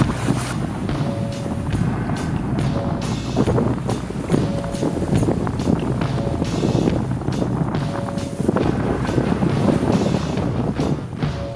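Strong wind and rain buffet a fishing boat at sea off Pohang during sea bass fishing, a constant loud rushing roar with gusty wind noise on the microphone and water sloshing throughout.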